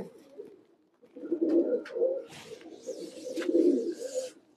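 A pair of chila pigeons in a home pigeon loft coo close by in steady, rolling bursts, with a couple of sharper flutters and scrapes mixed in.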